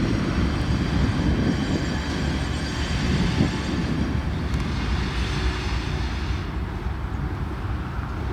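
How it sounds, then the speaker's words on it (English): A freight train locomotive switching cars on a spur in Central Connecticut, a steady loud rumble of engine and rolling cars with faint wheel squeal, continuous and fairly close. "Once ahead of the switch, the PL1 shoves back onto the main to tie back on to the 5 empties."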